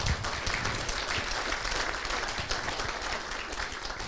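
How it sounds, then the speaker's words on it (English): An audience at a talk on climate change and health in rural Ghana claps for a speaker, a steady, moderately loud wash of many hands that carries evenly throughout. "I think she deserves a round of applause"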